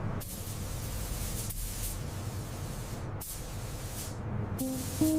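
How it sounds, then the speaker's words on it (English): A spray gun lays clear coat over the hood of a rebuilt 1969 Ford Mustang Boss 429, a steady close hiss of atomized paint broken by brief pauses between passes. "Finally, the clear coat is applied, creating a deep mirror finish across the hood."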